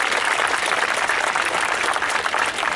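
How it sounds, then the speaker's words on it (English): Steady, dense applause from an outdoor crowd at a falconry display at the Great Dorset Steam Fair, loud and continuous for a few seconds with no other sounds standing out. "Let's land him just here to a wonderful round of applause."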